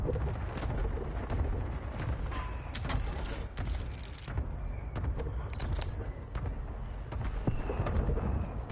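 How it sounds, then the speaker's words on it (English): Enemy airstrike in a Call of Duty game, a dense rumbling barrage of explosions and cracks with sharp bursts scattered throughout, loud and continuous with no voices. "Enemy airstrike in the area."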